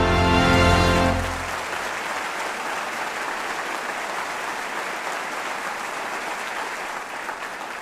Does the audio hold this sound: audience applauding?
yes